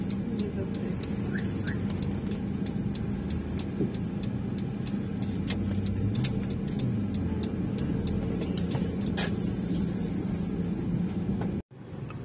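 Car interior while slowly driving around a hospital lot searching for parking, steady low engine and road rumble with faint ticking, ending in a brief dropout.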